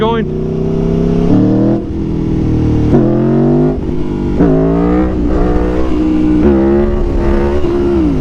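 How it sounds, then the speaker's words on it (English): A motorcycle ridden in second gear for a power wheelie has its throttle whacked open repeatedly, loud close revving that climbs sharply in several bursts, each rising whine dropping back before surging again. "I just whacked it open."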